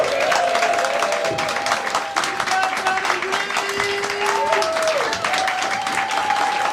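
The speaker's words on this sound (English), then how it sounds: "Give it applause, don't leave them long." Comedy club audience applauding steadily and loudly throughout, dense clapping with a few cheers, a voice faintly audible over it.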